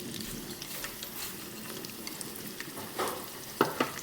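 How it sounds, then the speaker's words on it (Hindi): Two onions frying in half a cup of hot ghee, a steady soft sizzle with a few louder stirring clinks and scrapes near the end. "अब हमने लिया है दूसरा बर्तन, उसमें लिया आधा कप घी, उसमें जाएगी ये 2 प्याज"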